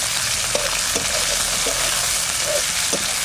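Whole spices, bay leaf, dried chilli, cumin and chopped onion fry in hot oil in a wok, giving a loud, dense, continuous sizzle broken by several sharp clicks of stirring.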